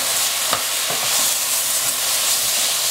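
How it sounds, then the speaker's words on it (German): Fish carcasses fry in a pot with a steady broadband sizzle while a spoon stirs them, giving a few soft scraping knocks; no one speaks. "Dann geben wir die Fischkarkassen dazu. Auch einmal etwas mit umrühren"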